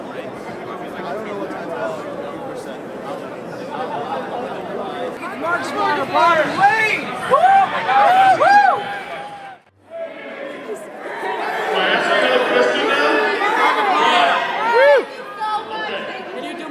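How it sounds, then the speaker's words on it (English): A busy convention crowd chatters and cheers all around at close range, with excited shouts and whoops rising above the babble, a brief lull, then the din swelling again. "And there is the crowd, if you can hear me."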